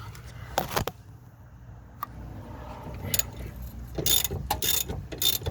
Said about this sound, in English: I'm going to hold the side, loosen that side, get that off, and keep going.